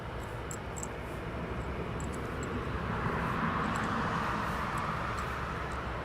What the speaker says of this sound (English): ASL Boeing 737 coming in soon from Harry